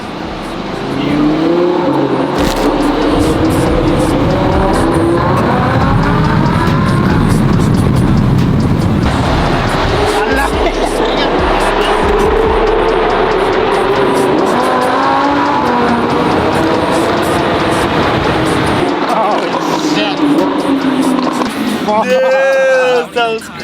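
Supercar engine roaring and revving in a tunnel, loud and echoing, with rising and falling gear pulls and a whoosh near the end, while people talk excitedly over it.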